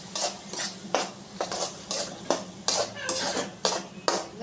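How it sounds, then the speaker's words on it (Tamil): Onion paste sautéed in a pan, stirred with a utensil that taps and scrapes the metal in a steady rhythm of about two knocks per second over a soft sizzle. "எல்லா விழுதும் போட்டு நல்லா வந்து வதக்கலாம்."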